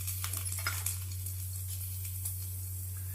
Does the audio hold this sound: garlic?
yes